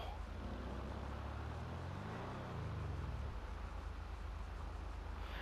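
A V12 sports car in Grand Theft Auto V idles with a deep, steady rumble, its pitch swelling briefly as if blipped before settling back, with no talk over it.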